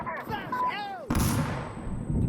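A TOZ-194 pump shotgun fires in Insurgency Sandstorm, one sharp, loud blast that rings out and decays over a second, after a stretch where a voice speaks.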